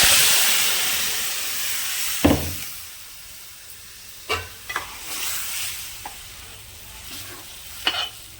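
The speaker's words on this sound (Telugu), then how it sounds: "ఇప్పుడు పప్పు పోసేద్దామండి" Dal poured into a hot tempering of dried red chillies for tamarind-style chintakaya pappu, stirred in the pan with a steady sizzle and several sharp clattering spoon hits close by; no one speaks.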